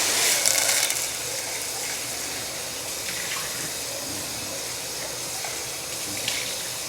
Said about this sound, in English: we'll now fill this up with water